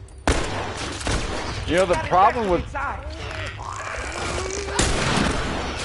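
Gunfire in The Last of Us: several sharp shots and bursts crack out close by amid mechanical clatter and rumbling effects, while someone talks over parts of the action.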